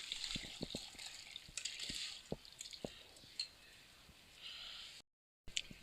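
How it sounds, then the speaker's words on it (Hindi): Curdled milk, chhena for rasmalai, is strained in a kitchen, giving soft wet drips, squishes and trickling liquid at close range. The sounds come in irregular bursts with a short silent gap near the end. "छेने को हम छान लेंगे।"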